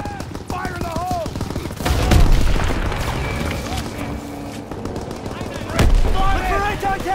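Call of Duty WW2 on Xbox One fills with battlefield gunfire, bursts of rifle and machine-gun fire with heavy booms, while soldiers shout over the shooting.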